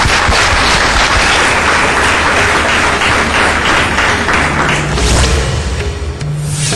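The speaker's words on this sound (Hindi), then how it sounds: "जोरदार तालियों से स्वागत कीजिए गुरुदेव का।" A studio audience claps loudly and steadily to welcome a guest on a Hindi astrology talk show, a dense wash of applause that fills the whole stretch without any voices.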